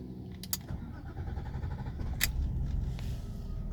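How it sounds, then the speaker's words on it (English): BMW E36 engine starting, with a couple of sharp clicks from the key and starter followed by a low engine rumble building and settling into idle, fairly quiet and close. "So let's start the car."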